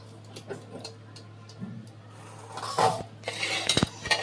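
Pots and plates clink and knock against each other in a kitchen as a vegetarian jackfruit biryani pot comes off the heat, with scattered light clatter that builds to a louder cluster of clinks near the end.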